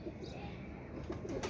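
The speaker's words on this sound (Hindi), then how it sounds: "असल गोल्डन कबूतर है" Golden pigeon cooing softly from close by, low murmuring coos over a steady background hiss, with brief brighter calls near the end.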